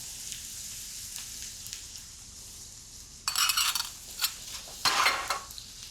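Butter hits a hot pan for potato rösti. A quiet background sizzle gives way to several louder bursts of crackling spatter, broken by clinks of metal, with no voices.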